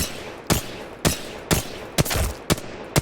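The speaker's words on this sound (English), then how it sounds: "I'm just going to tap fire." Gun tap-fired in the video game Apex Legends, six sharp single shots spaced about half a second apart in a steady rhythm, loud and close, with no voices.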